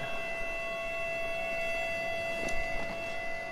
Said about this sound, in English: hearing sirens is gonna make me want to be here even more